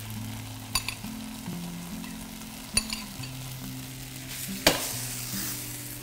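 Cooked India Gate basmati rice is stirred into tomato gravy in a pan, giving a steady low sizzle with a few sharp clinks of the spoon against the pan. There is no talking.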